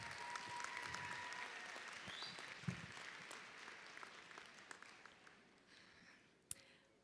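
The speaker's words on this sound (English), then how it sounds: "Let's give one more round of applause for all of our class speakers." Scattered applause from the audience at a high school graduation ceremony for the class speakers, quite faint and distant, with a few sharper isolated claps standing out against the crowd noise.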